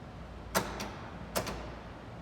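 A remotely released trunk latch on a 1932 Ford Coupe hot rod with a 572 V8 gives two quiet pairs of sharp mechanical clicks about a second apart over a low steady hum.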